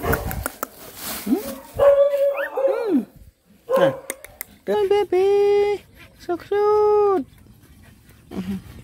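A small hungry puppy whimpers and yelps in several high, drawn-out whines, some short and some longer, close by and loud, with soft panting between them.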